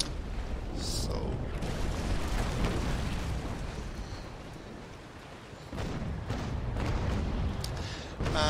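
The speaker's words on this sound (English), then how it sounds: "now I'm firing cannonballs at his hull" Broadside cannon fire from age-of-sail warships in Naval Action, heavy booming volleys rolling over one another in a dense, sustained barrage, with a narrator talking over much of it.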